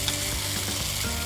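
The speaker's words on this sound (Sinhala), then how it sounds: "මේ විදිහට ෆ්‍රයි වෙනවත් එක්කම අපි බාබකියු සෝස් ටික ටික එකතු කරගමු" Young jackfruit burger filling sizzles loudly and steadily in a pan as barbecue sauce is added, a close, dense frying hiss with no talking.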